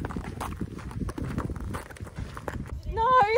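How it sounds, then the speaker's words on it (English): A large horse at a horse trials event walks with steady, rhythmic hoof clops on hard ground, close by, while people talk over it and a voice rises near the end. "No, it's a big horse."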